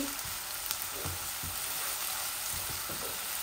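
Onions frying in a pan while cooking a Chinese snake gourd and prawn curry, a steady close sizzle with soft stirring scrapes popping in at intervals.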